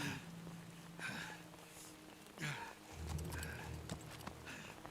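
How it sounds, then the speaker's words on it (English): Horse hooves clip-clop in the Metal Gear Solid 3 video game, several uneven hoof strikes at close range over faint background sound, with a brief neigh mixed in. "For a second there, I thought that horse was going to fly away."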